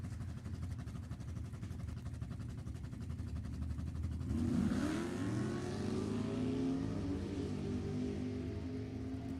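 A 1966 Chevelle and a 2007 C6 Corvette launch in a drag race: engines idle with a rough, pulsing rumble, then rise into a loud roaring rev that sweeps upward and carries on at full power.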